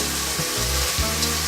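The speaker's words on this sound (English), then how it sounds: "So all we're going to do is just let this saute." Potatoes sauté in a pan, seasoned with salt and black pepper, as the start of an Indian potato and pea soup: a steady, close sizzle over a low humming drone, with no talking.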